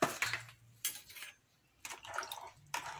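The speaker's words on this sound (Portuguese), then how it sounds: "Dou uma mexida." Pineapple pieces, sugar and water stirred in a pan, giving a few short scraping, sloshing and clinking bursts separated by pauses, close and fairly quiet with no talk.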